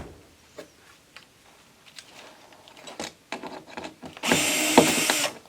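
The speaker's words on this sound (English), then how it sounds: "So you just undo the self-tapping screws" A power driver backs self-tapping screws out of plastic trim on a smartboard, giving short, close whirring bursts with small clicks and handling knocks between them, then a longer, louder run near the end.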